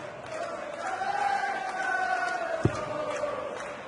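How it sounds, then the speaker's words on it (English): Darts crowd at a Masters match in Scotland, a steady roar of cheering and shouting from a large audience, with a sharp thud near the end. "Listen to the reaction of the crowd."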